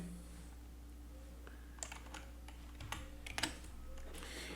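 A computer keyboard clacks during a programming lesson, a short burst of scattered keystrokes in a quiet room over a low steady hum, no voices.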